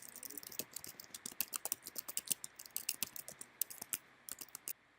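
Close, quiet clatter of code being typed on a computer keyboard, with irregular quick runs of sharp key clicks and brief pauses, no voices.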